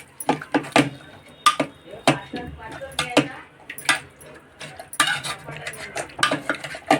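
Cooked vegetables for pav bhaji being mashed in a pot, giving irregular close metallic knocks and scrapes of a masher or spoon against the vessel, sometimes in quick bursts, with no talking.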